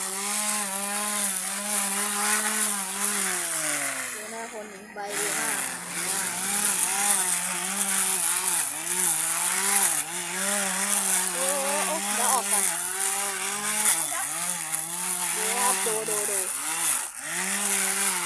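A modified grass cutter engine runs loud and close, whining and rising and falling in pitch as it cuts, with a brief dip near the middle and a person talking over it.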